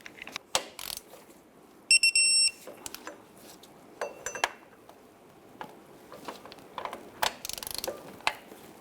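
A ratchet torque wrench tightens water pump bolts on a 1997-2006 Jeep Wrangler, giving short bursts of crisp ratcheting clicks separated by pauses, with a brief metallic ringing tone partway through.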